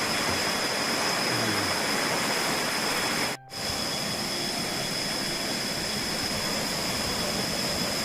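Water flows at the head of Mon Tha Than waterfall in Doi Suthep-Pui National Park, Chiang Mai, a steady, close, broadband rush that continues without a break.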